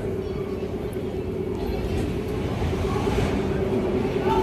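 An airport tram hums steadily as it moves, with a constant low rumble and a faint tonal whine; no speech.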